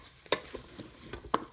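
Beef and onions fry in a rice cooker while a utensil stirs them, giving several sharp scraping strokes over a steady low sizzle with no talking.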